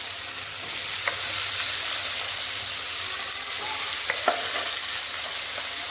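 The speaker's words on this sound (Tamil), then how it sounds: "தக்காளி நல்லா வதங்கிடுச்சு." Steady sizzling and frying of tomatoes sautéing in a pan, with occasional clinks of a utensil stirring through it.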